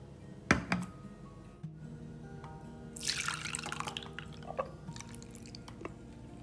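Water is drained from a can of chickpeas at a kitchen sink while preparing hummus: a single early drip, then a soft splashing, trickling pour in the middle, quiet and close with low background hum.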